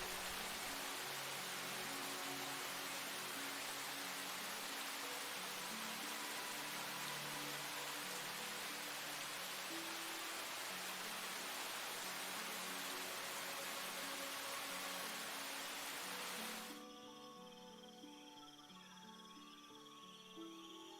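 Steady broadband hiss of rain falls for most of the stretch, then cuts off abruptly, leaving a faint background of insects.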